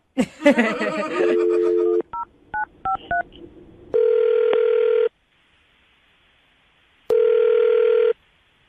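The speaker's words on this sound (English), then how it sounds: "I'm about to dial the phone number and get him on the phone" A handset tone sounds, then a quick series of short dialing beeps, followed by two long ringing tones separated by silence.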